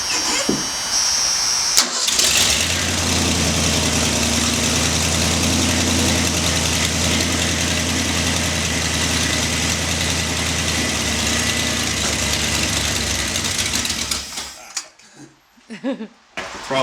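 A freshly installed carburetor lets an engine catch and start after a brief crank, then settle into a loud, steady idle for about twelve seconds before cutting off abruptly.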